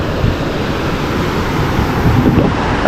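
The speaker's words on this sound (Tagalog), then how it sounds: "Ang ating alon ngayon medyo malakas pa rin oh." Fairly strong ocean waves washing onto a beach, a loud, continuous rumbling surge mixed with wind buffeting the microphone, with no speech over it.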